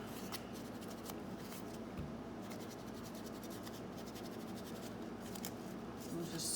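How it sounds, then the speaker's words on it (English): Close scissors snipping through paper for a Halloween junk journal page, a run of quick crisp cuts and scratchy rustles over a steady background hiss. "I am gonna cut it off a little bit."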